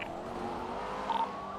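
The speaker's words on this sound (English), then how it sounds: "I love the way the Revolter sounds. The engine noise on it." Engine of a Revolter car in GTA, a steady mid-level drone with a slight rise toward the end, heard alone without talk.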